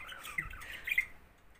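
A pet bird gives a couple of short, faint squawks close by, with soft rustling and quiet room noise in between.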